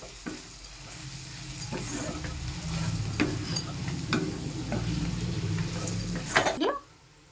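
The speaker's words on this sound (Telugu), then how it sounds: "చక్కగా కలిపేసుకోవాలి." Flat bean fry with spice powder being stirred in a hot pan, a steady close sizzle with scraping stir strokes throughout, ending abruptly near the finish.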